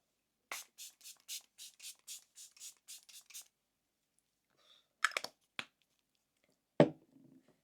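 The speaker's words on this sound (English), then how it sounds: "we're just going to spray this all over my face" A rapid series of about twelve short bursts of face setting spray in steady rhythm, close and crisp, followed by silence and a few scattered soft rustles.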